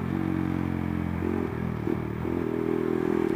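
A modified 2005 Suzuki Satria FU with a 230cc engine runs with a steady buzzing drone while riding, its pitch shifting slightly as the throttle changes, close and continuous with no talking.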